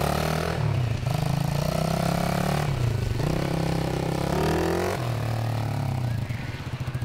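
Motorcycle engine running through a ride inside a garage, a steady loud drone with rising and falling pitch as it moves, fading slightly at the end.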